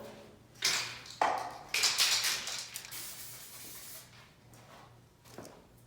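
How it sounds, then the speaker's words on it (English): Short hissing bursts of an aerosol spray can applying clear coat over enamel paint, several sprays of varying length close by, with a faint steady hum underneath. "I'm gonna go ahead and start spraying"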